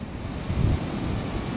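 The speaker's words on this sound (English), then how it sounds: "All we got is angry water." Rough, choppy sea waves wash and churn steadily near a coast with palms and bougainvillea, a continuous low rumbling surge with wind buffeting the microphone, peaking briefly then holding steady.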